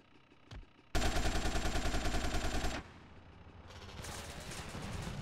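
Enemy gunfire in GTA San Andreas erupts as a loud, rapid automatic burst lasting about two seconds after a brief single shot, then gives way to a lower, steady rumble of game noise.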